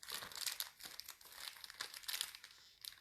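A plastic piping bag filled with ganache crinkles as it is squeezed and pushed toward one corner, a continuous rustling and crackling of soft plastic, close but quiet, in uneven bursts.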